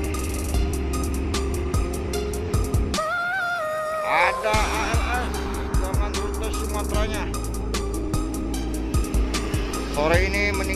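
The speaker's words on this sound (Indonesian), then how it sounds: "Di belakang Nusantara ada DMI 1ZX dengan rute Purwokerto meninggalkan terminal Kampung Rambutan sore ini." An intercity bus, a DMI 1ZX on the Purwokerto route, pulls out of Kampung Rambutan terminal in the afternoon, its engine rumbling steadily up close amid other terminal vehicles and a brief horn-like tonal burst.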